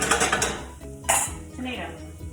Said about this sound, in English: And I'm gonna mix that around.